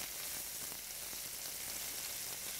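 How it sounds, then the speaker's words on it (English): Beef, spinach and mushroom patties sizzling in a frying pan just after being flipped, a steady close hiss with small crackles. "I'm just turning over the patties now"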